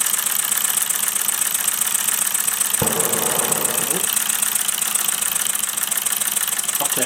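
A Mamod SP7 model steam engine runs on a gas burner with a rapid, even chuffing and mechanical whir, close and continuous, with a brief clunk partway through.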